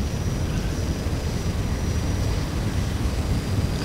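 Aircraft flying past in the X-Plane flight simulator, a steady broadband engine and wind roar holding at even loudness throughout, with no voices.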